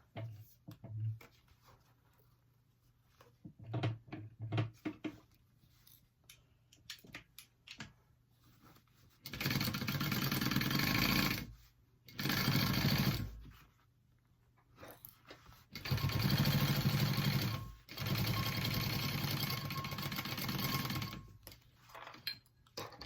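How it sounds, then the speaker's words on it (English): A domestic sewing machine stitches a quarter-inch seam on a diamond clutch wallet in two sustained runs with a short pause between them, loud and close, after a quieter stretch of handling noise. "You're going to sew it down at a 1/4 inch seam allowance."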